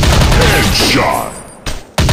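Gunfire from an Android military shooting game, a dense burst of shots up front that thins out, then a short pause before sharp blasts return near the end, loud and close.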